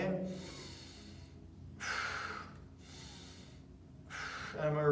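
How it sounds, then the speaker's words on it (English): Breathing during a standing anterior hip and quad stretch: a few slow, audible breaths, each a soft airy rush, spaced about a second apart and heard close with no talking. "I'm going to inhale in at the top and then exhale down."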